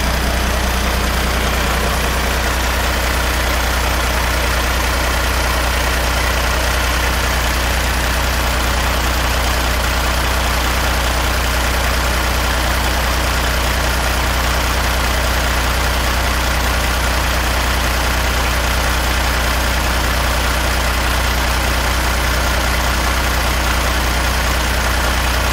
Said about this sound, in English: this is actually a Kenworth dump truck